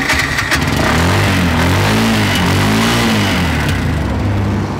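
A tuk-tuk's small engine, handled like a manual motorbike, is started and revved up hard, with a loud, steady, rising and falling drone close by and no voices.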